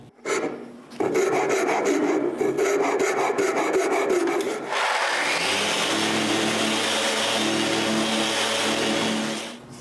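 Wooden corners on a homemade wooden tripod being cut off and rounded, heard as a loud, close rasping of continuous strokes, then a steadier whirring abrasive grind that carries on without pause to the end.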